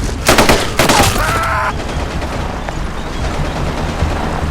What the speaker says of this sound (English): This first squad's starting to think that is quite a lot of gunfire for one guy.